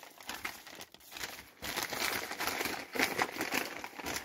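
Paper is crinkled and crumpled for wrapping a cup, in close, irregular rustling bursts with a short pause near the start.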